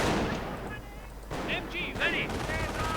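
A registered artillery barrage in a WWII strategy game: repeated booming shell fire and rattling gunfire in a dense, continuous battle din, with a commentator talking over it.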